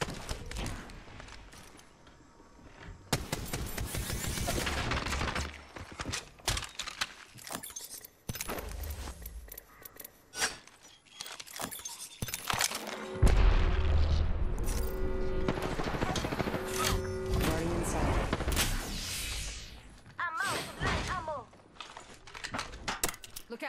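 Rapid bursts of gunfire from the video game Apex Legends, loud and repeated in clusters across the stretch, with other game sounds and a voice talking between shots.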